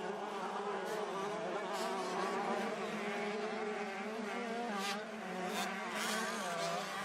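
Fantic 125cc motocross motorcycles racing at Matterley Basin, high-pitched buzzing engines revving and shifting continuously at a distance, several bikes overlapping with rising and falling whines.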